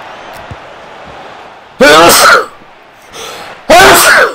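Two loud, close sneezes from a hay fever sufferer playing a FIFA 23 Real Madrid career match, about two seconds apart over faint stadium crowd noise.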